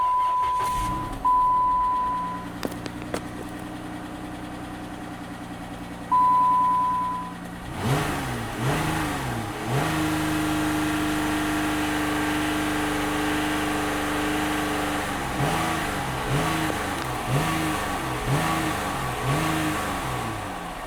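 A 2012 Chrysler 200 with a 3.6 engine and 156K miles: warning chimes sound, then the starter cranks and the engine catches and settles into a steady idle, followed by several short revs, heard close up.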